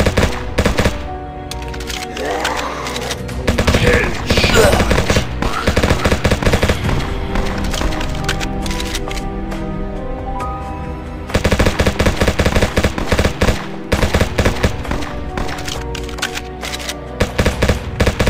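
Rapid automatic gunfire from a zombie shooter video game, loud and sustained bursts of machine-gun fire rattling almost continuously, with short gaps where the shooting stops briefly.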